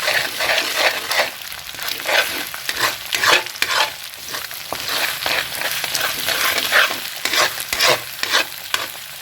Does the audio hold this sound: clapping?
no